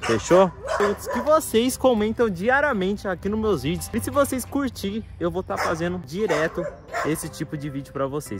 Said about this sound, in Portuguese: desculpa o barulho do cachorrinho ali de fundo